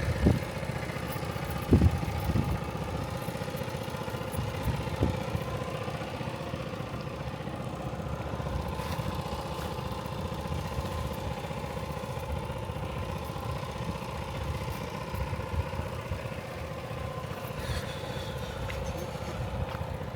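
Motor boat engine on the Alleppey backwaters: a steady mid-pitched drone that runs continuously and evenly throughout, fairly distant and moderate in level, with no talk.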